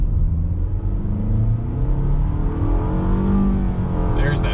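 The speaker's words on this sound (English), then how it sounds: "we're gonna do a little 0 to 60 launch" A 2021 Nissan Rogue with a CVT launches from 0 to 60, its engine holding a loud steady drone that climbs gradually in pitch, heard from inside the cabin with no talking.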